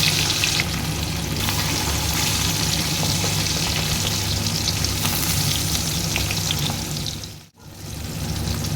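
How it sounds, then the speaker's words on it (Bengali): Hilsa fish pieces fry in oil in a pan with a steady, loud sizzle that holds throughout, briefly cutting out near the end before resuming. "মাছগুলো সব ভাজা হয়ে গেছে"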